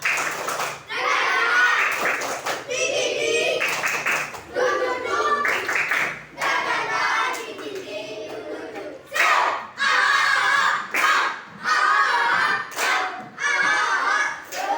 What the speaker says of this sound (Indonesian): Lagi sekali. Tepuk semangat.